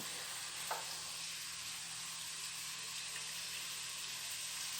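Onions sizzling in oil with half a spoon of salt for a Thalassery chicken dum biryani, a faint, even hiss of frying held steady throughout, with one brief clink of stirring early on and no voices.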